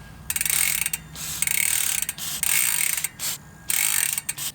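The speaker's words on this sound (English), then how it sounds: "We want to spin the pedals as we do so." Rapid ratcheting clicks from a freewheeling bike cassette come in several bursts of a few seconds each, close and loud, with short pauses between.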